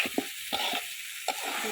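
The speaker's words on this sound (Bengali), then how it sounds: "এর সাথে আলু এবং পটলগুলো দিয়ে দেবো, এগুলো একটু কষাই নিই" Potatoes and pointed gourd with canal shrimp sizzling in a hot pan, a constant frying hiss broken by a few sharp scrapes of a spatula stirring, close and with no voices.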